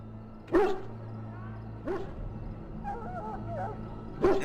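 A dog in the Dragon Age: Origins video game barks three times, loud and close, with short pauses between barks. Faint chirpy sounds fill one gap, and a steady low hum runs underneath.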